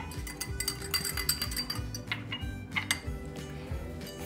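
A spoon clinks and scrapes against a bowl while cubed paneer is stirred with fennel seeds, salt, pepper, achari masala and mustard oil, a busy run of small taps and knocks close by.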